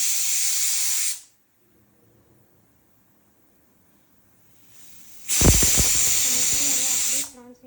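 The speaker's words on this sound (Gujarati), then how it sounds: "કુકરને વાખી દઈશું અને 3 સીટી વગાડીને બંધ કરી દઈશું" A pressure cooker holding an eggplant and potato curry vents steam through its whistle in two loud, sharp hissing bursts separated by a quiet pause, close by in a kitchen.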